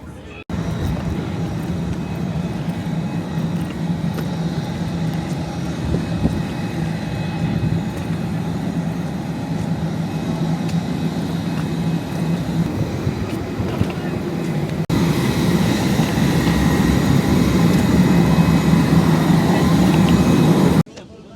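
Cabin noise inside an airliner on a domestic flight from Melbourne to Brisbane, a steady, loud low roar that fills the whole stretch and grows slightly louder near the end.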